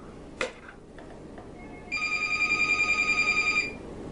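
A telephone rings in a steady electronic trill lasting under two seconds after a brief knock, clear over a quiet kitchen background.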